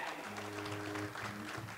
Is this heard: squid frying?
no